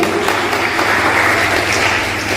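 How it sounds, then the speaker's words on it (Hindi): Loud, dense applause from an audience welcoming a coach at a gathering, steady and continuous throughout with no voices rising above it. "उनके जोरदार तालियां बजाइए"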